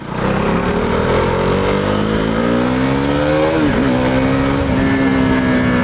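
A KTM Duke 390 motorcycle revs hard up toward 10,000 RPM, its loud, close engine note climbing steadily, dipping briefly at a shift, then pulling again with no talk over it.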